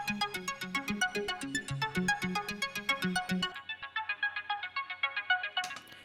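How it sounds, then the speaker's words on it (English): A plucky, bell-like trap beat with a thin, tinny telephone-filter tone, the melody repeating in quick notes before the low end drops away. "give it kind of that telephone effect"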